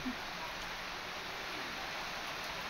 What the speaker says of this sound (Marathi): आज किती पाऊस यायला लागला पहा ना.